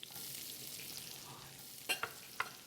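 Carrots and celery sizzle in a pan for a seafood stew, a soft steady frying hiss with a few sharp crackles and utensil clicks near the end, no voices.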